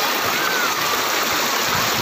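A clear river at a highland resort rushes steadily and loudly, a continuous broadband flow with no breaks.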